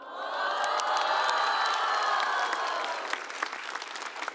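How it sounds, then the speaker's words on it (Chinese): A stand-up comedy crowd bursts into loud applause mixed with cheers and whoops, peaking early and then thinning into scattered claps as it fades. "你们大部分人会后悔这个鼓掌"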